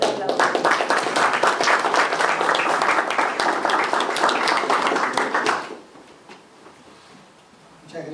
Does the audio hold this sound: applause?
yes